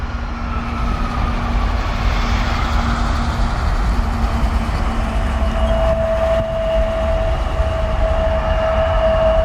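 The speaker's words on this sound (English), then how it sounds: "the Prime Air 737-800 is departing." A Prime Air Boeing 737-800 jet departs at Portland, its engines producing a loud, steady broadband roar with a faint rising whine, continuous throughout and with no talking.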